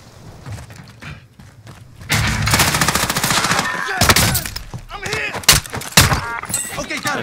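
Rapid gunfire rattles through a first-person shooter match, dense bursts and single cracks stacked under excited team chatter, loud and close with heavy layered action after a quieter start.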